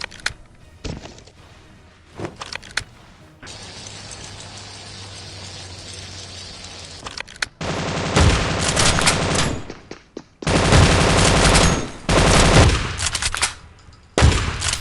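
Shotgun gunfire in the mobile shooter Scarfall 2.0 on the Mumbai map, loud blasts and bursts of firing in dense clusters with brief gaps between volleys.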